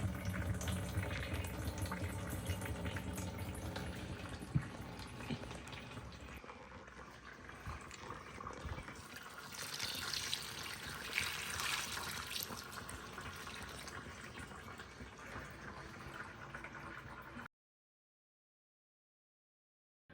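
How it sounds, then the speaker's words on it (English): Monstera deliciosa watered thoroughly with regular tap water, a soft continuous pouring and trickling into the pot that slowly fades out before silence. "use regular water to water him thoroughly"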